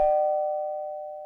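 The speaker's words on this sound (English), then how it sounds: "And just then, the doorbell rings." A single steady electronic doorbell chime rings once, clear and close, then slowly fades out, with no voices or other sounds around it.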